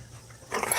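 A puppy gives a brief whimper and then a short burst of barking or growling, close by and fairly quiet, with no talking.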